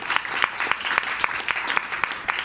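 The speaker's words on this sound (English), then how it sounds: "Another round of applause for Jerome Thia." A corporate keynote audience applauds: steady clapping from a crowd with some sharper individual claps standing out in a loose rhythm, fairly loud and unbroken.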